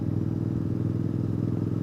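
A 2014 Triumph Bonneville Speedmaster motorcycle engine idles with a steady, loud low rumble and fine rhythmic exhaust pulsing, running alone with no talk.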